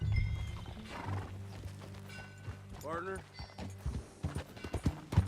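Horse hooves clip-clop in Red Dead Redemption 2 at a ranch, a soft rhythmic patter of footfalls that grows more distinct toward the end, with a low hum and a brief spoken word above it.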